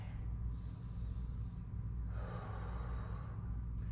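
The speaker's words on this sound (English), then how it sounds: "But again, big deep breaths." Slow, deep breaths during a full-body stretching class, a long audible inhale and exhale drawn close to the mic over a steady low background rumble, with no talking.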